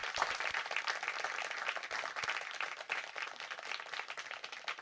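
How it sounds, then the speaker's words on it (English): Applause from attendees at a San Mateo County Board of Supervisors meeting, a steady mid-distance crowd clapping that holds evenly for about five seconds with no talking over it. "Let's give them a round of applause."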